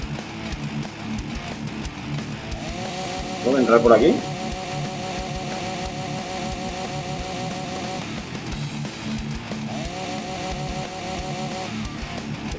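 A chainsaw in the Walking Zombie II video game drones in two long whining runs beneath game noise, with a person briefly talking over it.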